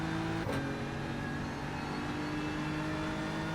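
Steady engine drone of a BMW GT3 race car in a racing video game, a continuous loud hum with tonal harmonics that hold fairly even throughout, with a brief sharp shift near the start and no talk over it.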